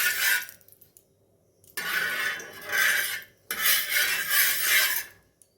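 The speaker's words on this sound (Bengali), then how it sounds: "তেলটাকে আমি খুন্তির সাহায্যে একটু ছড়িয়ে দেবো।" A metal spatula scrapes oil across a hot iron tawa in three rasping strokes, each a short burst of scratching with brief quiet gaps between.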